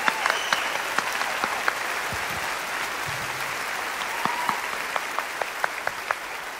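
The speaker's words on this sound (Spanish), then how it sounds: "Un aplauso para la gloria olímpica" Steady applause fills a room after an Olympic-themed celebration, dense clapping with individual claps standing out, going on without a break through the whole stretch.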